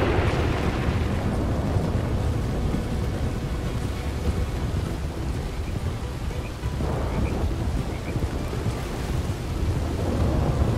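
Heavy rain and wind from a thunderstorm on a farm, with continuous loud roaring wash and deep rumbling thunder throughout, no voices.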